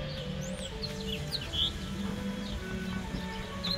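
Faint birds chirp and tweet in short scattered calls over a steady outdoor background near a small island at a family outing.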